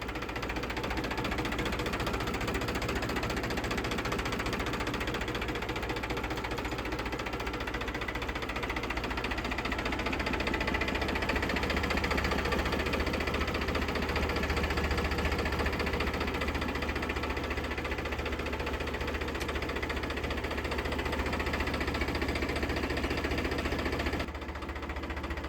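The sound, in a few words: tractor engine running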